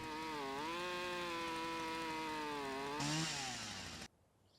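A chainsaw in the video game Lumberjack Simulator cutting a log roars steadily, its engine pitch dipping and rising under load, then cuts off abruptly into near silence.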